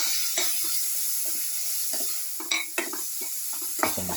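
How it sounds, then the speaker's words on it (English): Garlic and pumpkin sautéing in a pan, a continuous soft sizzle under repeated scraping and stirring strokes of a utensil against the pan, up close. "Some sauteing for 30 minutes."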